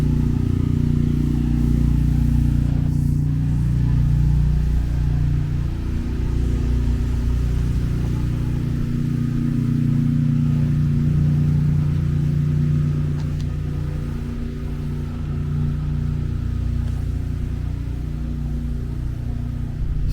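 Car traffic on Narrows Avenue in Brooklyn makes a continuous low engine rumble and tire roar that swells and fades gently as vehicles pass close by, with no talking.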